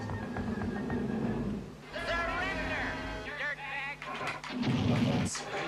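Rapid gunfire and blasts from shooting cars in the CD-i game Escape From CyberCity sound in bursts under near-constant talk from players over the game's music and effects.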